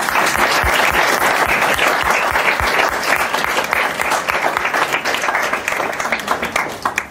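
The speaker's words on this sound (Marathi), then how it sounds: "टाळ्या वाजवत" Sustained audience applause at a felicitation ceremony honouring staff at the Amravati centre, steady dense clapping from a seated crowd that fills the whole stretch and thins slightly toward the end.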